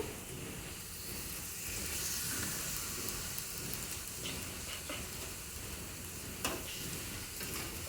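Chicken fries in a pan with a dense, continuous sizzle and hiss, occasional pops and a soft clink, steady and close without speech.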